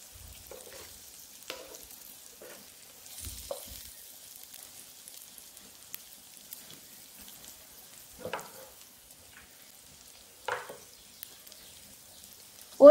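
Egg slices frying on a low flame in a pan, soft and sparse: faint scattered crackles and small pops over near silence, with no voices.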